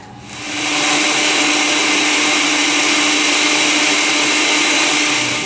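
A blender blending broccoli and cashew cheese whirs up to full speed and holds a steady, loud high-pitched grinding drone for several seconds.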